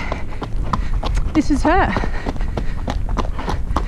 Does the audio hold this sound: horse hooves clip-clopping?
yes